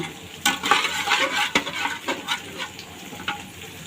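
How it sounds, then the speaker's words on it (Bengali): Spice paste with turmeric, salt and ginger-garlic paste being sautéed in a pan, soft sizzling under repeated scraping strokes of a spatula against the pan, several distinct clinks spaced through the short stretch. "এখন এই মশলাটাকে আমি একবারে ভালোভাবে কষিয়ে নিব"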